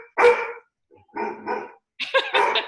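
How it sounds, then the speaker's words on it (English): Several dogs bark in three loud bursts, a single close bark followed by a pair of barks and then a rapid cluster, with short silences in between, heard alone with no talk. "we like your dogs, don't worry about it."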